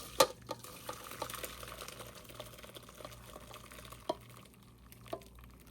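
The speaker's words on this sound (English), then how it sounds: "now we're going to pour it through this strainer." Simmered homemade cranberry juice poured through a strainer, a quiet, continuous watery trickle with a few soft clinks near the start and end.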